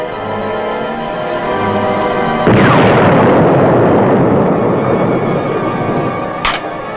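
A torpedo striking a tanker amidships: a sudden massive explosion cuts in after a low rumbling lead-in, then a long, loud roaring blast that sustains and slowly decays, with a sharp crack near the end.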